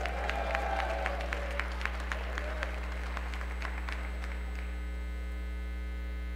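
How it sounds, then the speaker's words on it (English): An audience at a ballroom dance competition claps for couples taking the floor, with scattered, fairly light applause over a strong steady electrical hum that fades out after a few seconds. "Put your hands together for Richard Hoover and Laurie Gilbert."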